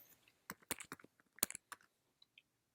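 Quick, light keystrokes on a computer keyboard tap out a short word, a brief cluster of close clicks followed by a couple of isolated taps.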